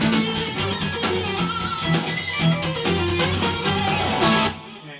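Electric guitar melody from a piece, played loud and continuous with sustained, bending lead notes over a full backing, fading slightly at the end.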